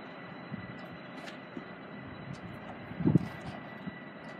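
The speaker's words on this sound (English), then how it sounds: "now departing is Great Northern off to London King's Cross, 1517" A Great Northern train pulls out of Ely bound for London King's Cross, a low steady rumble of its engine and wheels at a distance with a brief louder thump partway through, no voices over it.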